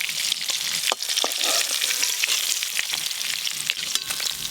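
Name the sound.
sardine fish frying in oil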